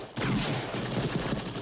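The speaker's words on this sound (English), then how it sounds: "We did a lot of different gunshots." A loud burst of gunfire erupts and rings out in a dense, rattling volley that lingers for over a second.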